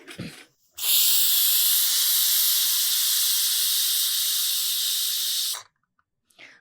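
Pressure cooker cooking mutton lets out one loud, sustained steam hiss and whistle lasting about five seconds close by, cutting off abruptly into near silence.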